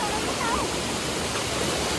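Mountain stream at Jogi Khola near Latpanchar flowing in a steady broadband rush of water, continuous and close, with no clear voices over it.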